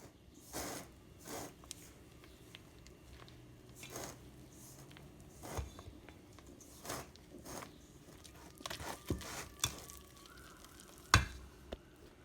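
Gentle folding of wet and dry banana chocolate chip muffin batter in a bowl, soft squishy stirring strokes with occasional light clicks, close but faint and without talking.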